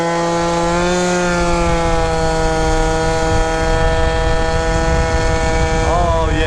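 A 70cc two-stroke engine bike revs with a loud, buzzing, steady high-pitched drone, holding near-constant speed before a quick rise in pitch at the end.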